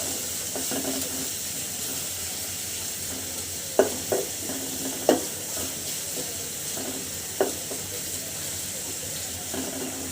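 Chopped onions frying in oil in a pan for a village-style fish curry, a steady broad sizzle running throughout with a few sharp clinks of a utensil stirring against the pan.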